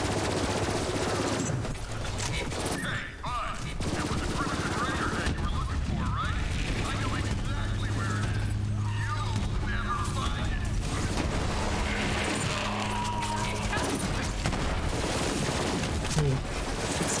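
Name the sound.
explosions and gunfire in video game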